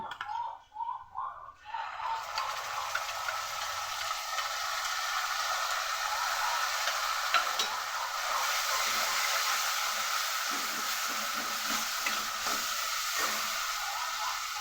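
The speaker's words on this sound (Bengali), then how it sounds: "এই ভাজাটার মধ্যেই দিয়ে দেব ফেটিয়ে রাখা টক দই" Whisked sour yogurt goes into frying spices with Kashmiri chilli powder in a pan for fennel chicken, setting off a loud, steady hiss and sizzle that fills the scene after a brief burst of stirring at the start.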